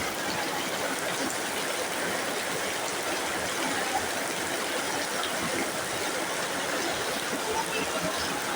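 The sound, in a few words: heavy rain pouring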